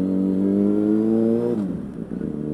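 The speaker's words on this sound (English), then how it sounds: "I'm getting so distracted by, like, the serious lunchtime traffic." A car engine revs hard in busy lunchtime street traffic, a loud steady roar that climbs and then drops away after about a second and a half into rougher road noise.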